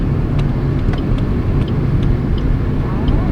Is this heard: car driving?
yes